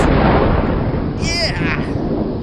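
A booming explosion sound effect in a gaming podcast intro rolls out as a loud, dense, sustained rumble with a brief crackling burst partway through, heard alone.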